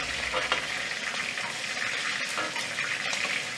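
Chicken pieces for an Indian curry fry in hot oil, giving a steady, dense sizzle with crackling spatters, close and continuous from start to end with no voices.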